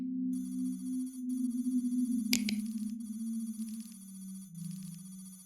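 Control room ambience in the Signal Simulator video game, a steady electronic hum and bright tonal beeping from equipment, with a brief sharp burst midway, heard alone at moderate level.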